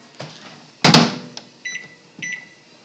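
Microwave oven heating a cup of coffee in a home kitchen: a door clunk starts it, then a steady hum runs on while a couple of short electronic beeps sound near and clear.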